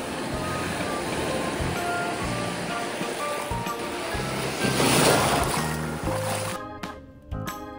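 Sea waves wash steadily onto a beach of stones rather than white sand, a continuous broadband rush that swells around the middle before a few closer splashes near the end.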